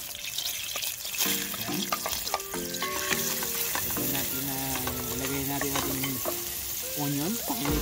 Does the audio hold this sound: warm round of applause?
no